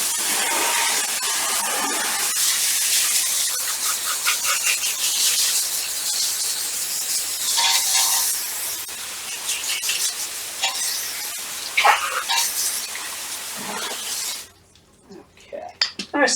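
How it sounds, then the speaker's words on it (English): Water spraying and splashing while a cleaning brush or tool is rinsed off during tire and wheel cleaning, a steady broad hiss for about fourteen seconds that then stops abruptly, leaving faint clinks and handling noises. "before I put this back into the bucket, I'm going to rinse it"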